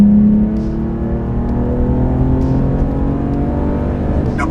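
A Ducati motorcycle engine with a project exhaust and its dB killer removed, idling loud and close with a steady rumbling drone and a brief rev near the start, no talk over it.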